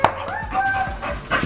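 A puppy whimpers and yips in a few short, close, high-pitched bursts, with a faint rustle of handling in between.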